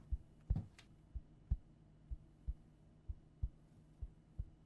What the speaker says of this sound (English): the heartbeat you can hear.